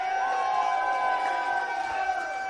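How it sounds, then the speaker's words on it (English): A raucous crowd at an independent wrestling show in a warehouse cheers and shouts continuously, a dense sustained roar of many voices with tonal whoops carrying over it. "so give yourself a round of applause"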